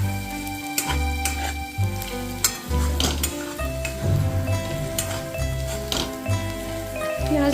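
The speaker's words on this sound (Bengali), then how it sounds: "মাছটা আমার অনেকটাই ফ্রাই হয়ে এসেছে" Fish fries in a pan with Kashmiri chilli powder and turmeric, giving a crackling sizzle and occasional stirring clatter beneath steady background music with a prominent low beat.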